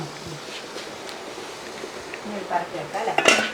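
A steamer pot lid comes off after the water has boiled for steaming jackfruit ada, with soft metallic clatter and clinks building toward the end over a steady background hiss.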